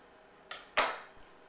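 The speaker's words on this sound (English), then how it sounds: "Scrape off my spatula." Shortbread dough being scraped off a spatula against a bowl or pan, two quick clattering scrapes in close succession, the second louder and trailing off, then quiet.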